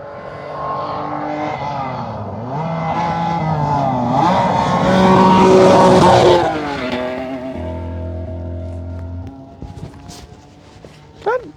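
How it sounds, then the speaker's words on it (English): Subaru rally car with a naturally aspirated H6 and four-wheel drive, not running on all cylinders on a gravel stage, its engine note rising loudly as it passes close and then fading off into the distance. "Doesn't sound like it's running on all the cylinders."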